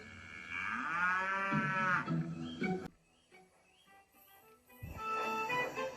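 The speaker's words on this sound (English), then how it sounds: "Suddenly, Thomas saw a cow on the tracks in front of him." A toy-sounding cow moos loudly and close for about two seconds, from a wooden railway toy train scene, followed by quieter background sounds and another burst of noise near the end.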